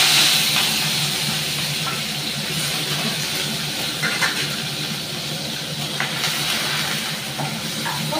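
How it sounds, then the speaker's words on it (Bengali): Prawns frying in a pan for a fish spice paste, a steady close hiss and sizzle with faint crackles throughout, fairly loud and continuous, no voices. "চিংড়ি মাছটা দেখো ভেজে নিচ্ছি"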